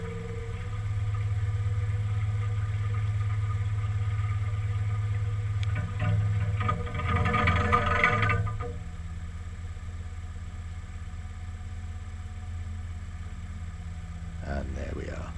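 A boat engine idles with a steady low throb, briefly revving and rattling midway before settling back to a constant hum.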